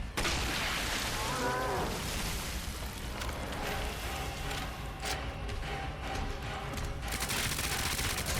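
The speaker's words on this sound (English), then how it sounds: "Get some extra submachine gun in there." Rapid submachine gun fire in Resident Evil 2 Remake, a dense, loud stream of shots layered over game effects and a droning background, sustained across the whole stretch with a few sharper bursts near the end.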